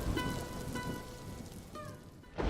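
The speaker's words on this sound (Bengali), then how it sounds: "এইদিকে বৃষ্টির পরিমাণ যে বেড়েই চলেছে।" Steady rain pours down as a sound effect for an animated Bengali folktale, a dense continuous hiss with faint tonal music lines running underneath and a brief louder swell at the end.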